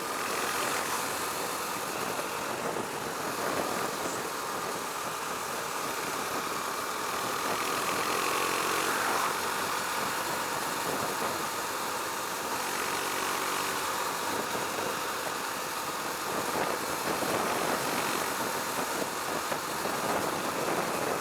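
A Husqvarna Svartpilen 401 motorcycle with a 400cc engine runs steadily and smoothly for a long stretch, a constant close hum with broad wind-like noise over it and no speech.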